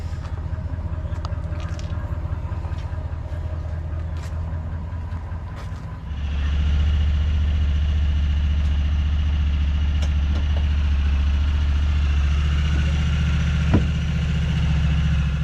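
Honda Talon 1000x UTV engine idling steadily and loudly up close, with a low rumbling drone that thickens and grows louder partway through as the revs rise slightly, then holds at a constant level.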